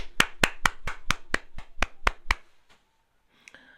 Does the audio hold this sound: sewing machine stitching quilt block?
no